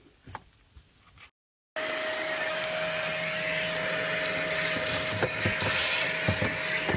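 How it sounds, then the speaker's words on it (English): After a few soft clicks and a brief silence, a household vacuum cleaner switches on and runs with a steady whine and roar, with occasional rattling pickups as it sucks up rust-repair debris on a 2002 Acura RSX Type S. "I'm going to use a regular vacuum cleaner and just suck all this debris up"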